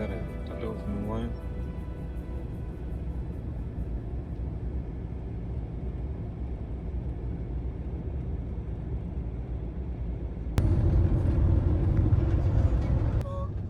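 A car drives along a road in Norway, its steady low engine and tire rumble filling the cabin, then swelling noticeably louder for a few seconds near the end before easing back.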